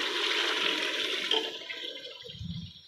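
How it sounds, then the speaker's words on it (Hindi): Water poured into a pot of masoor lentils, a steady rushing splash that tapers off near the end, with no talk over it. "अब इसमें हम डालेंगे 1 लीटर पानी"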